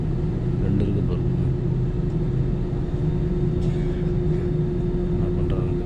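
An airliner taxis toward a runway in the Philippines, heard from inside the cabin as a steady, loud engine hum and low rumble with a constant whine, no distinct events.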